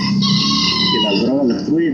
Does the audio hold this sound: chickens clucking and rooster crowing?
yes